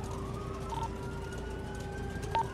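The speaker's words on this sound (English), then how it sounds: "Who got them sirens on?" A police siren wails faintly in the distance, its tone sliding slowly up and down. Bird coos sit over quiet background noise, and there is no talk.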